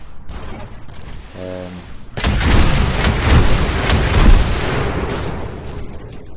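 Heavy weapon fire and explosions from a Titan in the video game Titanfall, a dense, continuous barrage of booming blasts that starts after a brief tonal lead-in and stays loud to the end.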